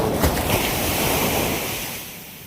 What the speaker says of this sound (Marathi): हा लाटांचा आवाज जास्त येतो इकडे